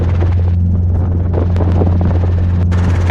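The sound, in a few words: Robinson R22 helicopter in flight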